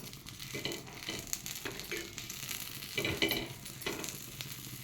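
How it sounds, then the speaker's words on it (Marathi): Green chillies roasting on a hot tawa for Khandeshi thecha give a soft, steady sizzle with occasional stirring scrapes, close but quiet, with no voices. "मी इथे तव्यावरती मिरच्या भाजून घेत आहे."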